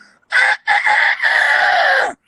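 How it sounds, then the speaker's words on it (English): A rooster crows loudly and close by, one long broken cock-a-doodle-doo call lasting about two seconds, with no other sounds around it. "You need good roosters with strong legs that'll wake you up at 4:30 in the morning"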